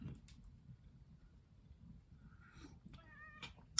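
A pet cat meows near the microphone in a home workshop, a couple of short tonal cries in the final second over low background rumble.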